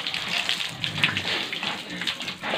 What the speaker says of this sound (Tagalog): Banlawan nyo ng tubig, no? Para mawala naman din yung ano